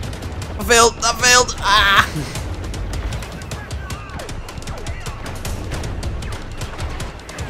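Pistol shots from the Star Wars Battlefront beta fire in a quick, regular series that carries on for several seconds, after a player shouts briefly at the start.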